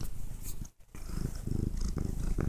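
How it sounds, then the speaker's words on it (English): A house cat purrs up close in a low, rumbling, continuous rhythm, briefly interrupted by a quick pause before carrying on steadily. "I am here with my cat."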